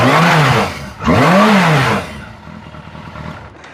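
A Yamaha motorcycle engine with a faulty voltage regulator revs twice in quick succession, each rise and fall sharp and loud, then drops back to a quieter idle.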